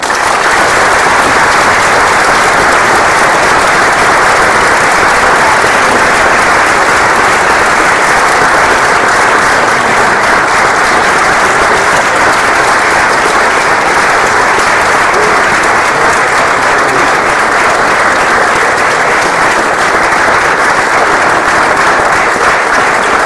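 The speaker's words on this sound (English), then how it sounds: "all applauding for me." Sustained audience applause at a J Street campaign event, dense steady clapping from a large crowd filling the room continuously and loudly with no talk over it.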